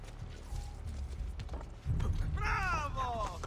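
Horse hooves clip-clopping in Assassin's Creed 2, a steady close rhythm of hoofbeats under game sounds, with a voice speaking near the end.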